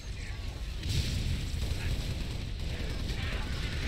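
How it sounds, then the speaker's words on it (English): Grunt grenades explode in Halo: The Master Chief Collection as a string of booming blasts and gunfire-like cracks, dense and loud from start to end, with bursts standing out around the middle. "Grunts get a little bomb happy, I swear."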